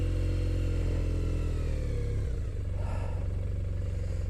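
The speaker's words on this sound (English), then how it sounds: "When you're trying to manoeuvre a bike, especially a bike this heavy" A Triumph Thruxton motorcycle idling and being manoeuvred at low speed, its engine a loud, close, steady throb that dips briefly and settles back into an uneven lumpy idle.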